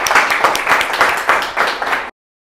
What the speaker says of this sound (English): students, give yourself a big round of applause